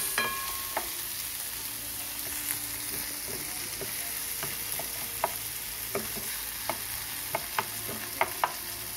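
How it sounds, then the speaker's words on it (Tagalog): Steady sizzle of pork binagoongan ingredients, with tomatoes, sautéing in a pan, with occasional sharp stirring clicks and taps over a constant frying hiss, no voices. "Hintayin lang natin medyo magisa maigi."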